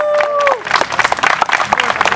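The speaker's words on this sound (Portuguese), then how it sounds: "Palmas para esse pessoal!" Scattered clapping from a crowd at the end of a community cycling event, loosely spread and steady, partly overlapping a voice at the start.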